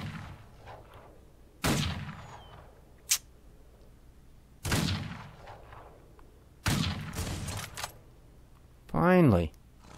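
Sharp gunshots from the Wild West game Outlaws of the Old West, three loud cracks spaced a couple of seconds apart with a small click between them, then a brief ringing metallic tone, over a quiet background.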